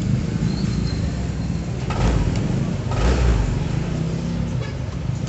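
A Honda PCX 150 scooter, recently treated for a vibrating headlight, runs with a loud, close engine drone that swells briefly twice as the throttle is opened.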